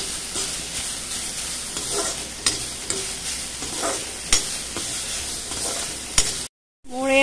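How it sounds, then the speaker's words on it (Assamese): Fiddlehead fern greens seasoned with turmeric and salt sizzle in a pan with a steady hiss, punctuated by scraping knocks of stirring, before cutting out abruptly and a brief voice is heard. "পুনৰ মই লৰাই লওঁ ঢেকীয়া শাকখিনি গলালৈকে এদৰে লৰাই থাকিম"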